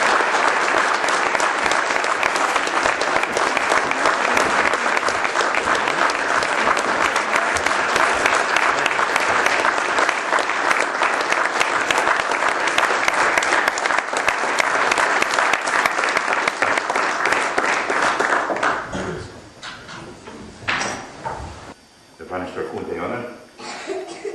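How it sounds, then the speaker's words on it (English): Sustained applause from a large audience greeting the Deputy Chief of Mission at a Mercyhurst event in Ireland, loud and dense for about eighteen seconds before thinning into scattered claps and murmurs. "a round of applause, please"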